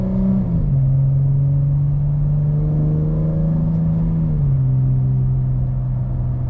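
An automatic car's engine drones loudly from inside the cabin as it accelerates in manual shift mode, holding a steady rev with a brief dip and pitch changes at the shifts.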